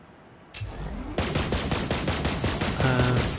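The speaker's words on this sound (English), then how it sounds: "Is that guy shooting at us?" Enemy gunfire in Borderlands 3, loud rapid bursts of automatic shots kicking in and continuing densely, with a brief earlier blast and a tonal game sound near the end.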